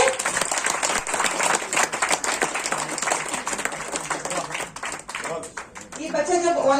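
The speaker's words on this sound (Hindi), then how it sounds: "बेलगीछा उर्दू हाई स्कूल की जोरदार तालियां हो जाए।" Loud applause from a crowd for a Belgachhia Urdu high school, dense clapping that fades near the end, where a voice begins speaking.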